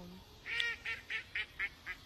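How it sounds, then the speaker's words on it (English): A duck quacks in a quick series of about six short, bright calls in steady rhythm, fairly loud and close, with no talking over it. "The damn fucking duck started laughing when I said."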